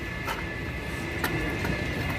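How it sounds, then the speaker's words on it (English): A train rumbles through a station with a steady low roar and faint rhythmic clicking throughout, with no voices. "We're in the train station"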